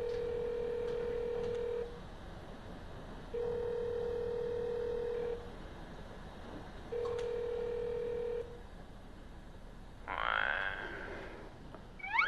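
A telephone places a call at night, with three long, evenly spaced ringback tones sounding steadily, followed by a brief burst of other noise near the end.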